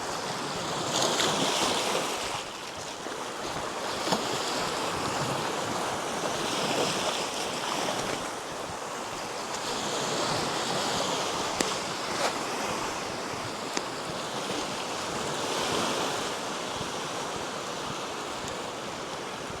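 Sea waves wash onto a Baltic coastal shore in continuous rolling surges, with wind buffeting the microphone and no voices.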